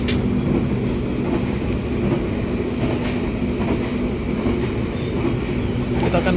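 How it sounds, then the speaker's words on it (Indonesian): A passenger train rolls along the rails toward Surabaya with a continuous rumble and faint rhythmic clatter, heard from inside a carriage with a steady hum underneath. "Baru juga naik kereta ini, laju juga ya."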